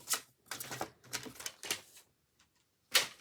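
Paper being cut to 23.5 cm for a handmade album cover: four quick rasping cutting strokes in a row, a pause, then one final sharp stroke, close and fairly quiet.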